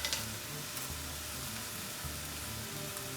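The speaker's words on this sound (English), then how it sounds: "we're going to cook out the raw flavor of the ginger and the garlic" Ginger and garlic frying in a pan for kheema, a steady close sizzle with a faint crackle that holds at an even level.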